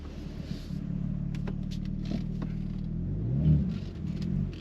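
A BMW M3 fitted with a BMS intake rumbles steadily from up close, then swells in a brief boosted surge with rising whoosh before settling back to a deep, even drone.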